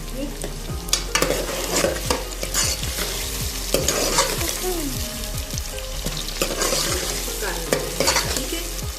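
Onions fry in oil until brown and sizzle steadily while a utensil stirs them, giving frequent scraping clinks against the pan close up.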